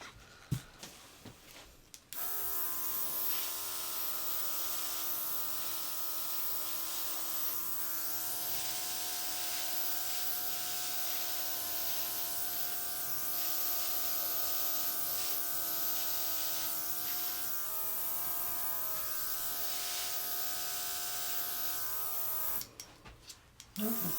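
A heat tool blows steadily on a craft card freshly touched with pearl shimmer, a loud, even whirring hiss with a faint motor hum that runs almost unbroken for about twenty seconds before clicking off.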